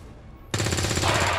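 Gunfire in XCOM: War of the Chosen begins abruptly after a quiet lead-in and becomes a loud, sustained burst of rapid automatic shots that continues to the end.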